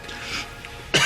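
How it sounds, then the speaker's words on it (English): A single sudden cough bursts out near the end after a quiet stretch of faint room noise. "It's an unrepressible cough."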